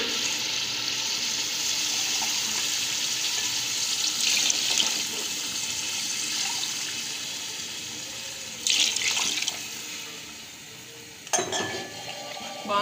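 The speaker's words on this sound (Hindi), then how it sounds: "अब हम इसमें डालते हैं पानी।" Water pours steadily into a cooking pot for several seconds, a continuous hiss with brief louder splashes near the end, close by and without speech.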